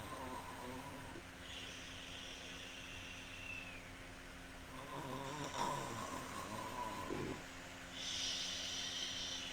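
A sleeping child's snoring, staged as a sound effect, comes as slow rasping breaths over a steady buzzing hum, with louder swells partway through and near the end.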